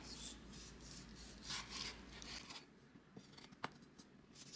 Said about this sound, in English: Alright, so we're going to cut this steak.